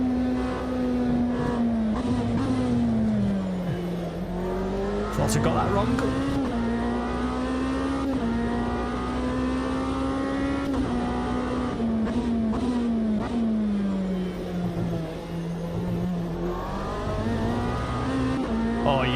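A Lamborghini race car roars through Automobilista 2, its loud engine rising and falling as it shifts, brakes and accelerates through corners, with someone talking briefly over it.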